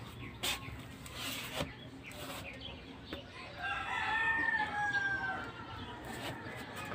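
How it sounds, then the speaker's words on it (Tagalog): A rooster crows and chickens cluck near a stream, mixed with other bird calls at moderate distance over a steady outdoor background, with no voices. "Daming ng ibon"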